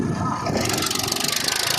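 A tractor engine runs close by, rough and loud, with a rapid pulsing rhythm growing clearer toward the end.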